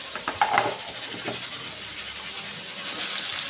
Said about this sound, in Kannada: ಒಗ್ಗರಣೆಗೆ ಜೀರಿಗೆ ಸಾಸಿವೆ ಮತ್ತು ಸ್ವಲ್ಪ ಕರಿಬೇವು ಸೊಪ್ಪನ್ನು ಹಾಕ್ತಾ ಇದ್ದೀನಿ